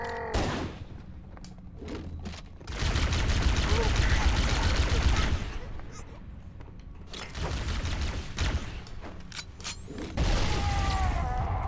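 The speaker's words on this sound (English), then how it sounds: "The grenades in Halo 1 really blow the fuck up. Like, those are huge explosions." Loud, booming grenade blasts in Halo: Combat Evolved, several bursts of broad roaring noise with gunfire-like crackle across the clip, dropping briefly between explosions.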